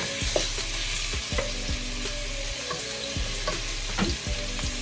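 Ground beef fries in a little oil for Jamaican beef patty filling, with a loud, steady crackling sizzle and repeated soft stirring knocks from the pan.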